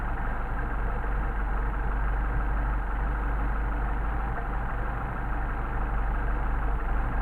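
A Mercedes 190SL engine with a Solex 44PHH carburetor idles steadily at low RPM while its idle mixture screw is adjusted, a continuous close rumble with no talk over it.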